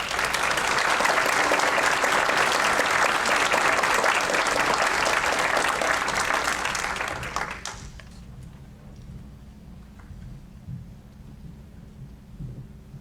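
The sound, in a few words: audience applause at a board meeting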